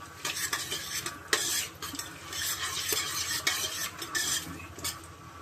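Cardamom pods and bay leaf frying in hot oil for egg biryani, a steady sizzle with a spoon scraping and clinking against the pan in repeated stirring strokes, close and continuous with no talking.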